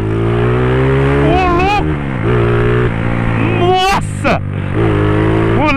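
A tuned Honda Today scooter engine revs hard in close, rising and falling bursts with a sharp high whine near the end, while excited voices talk over it throughout.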